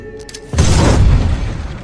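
A homemade explosive detonates inside an abandoned mine tunnel: a single sudden deep boom that bursts in loudly and rolls on as a heavy rumbling roar.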